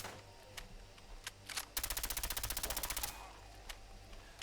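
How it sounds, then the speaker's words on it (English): Suppressed 10mm submachine gun in a video game firing in slow motion: scattered single muffled shots, then a rapid evenly spaced burst of about fifteen stretched reports, followed by a few more isolated shots. "It's a curious sound to make for a suppressed submachine gun there in slow motion."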